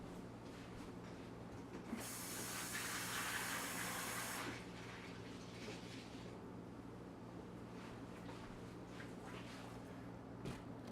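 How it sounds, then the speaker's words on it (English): Tap water runs for about two seconds into a cup of crushed ice, a clear close gush that then stops, leaving only a low background hum. "I will fill the cup with water."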